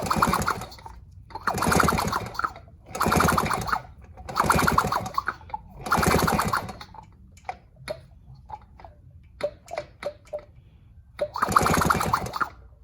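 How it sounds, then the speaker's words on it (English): Motorcycle engine turned over slowly by rotating the back tire with the clutch engaged, giving five loud, evenly spaced rasping bursts of compression with faint mechanical ticks and clicks in the gaps between them. "We're going to rotate the back tire with the clutch engaged. We want the motor to turn over and see what kind of spark we have."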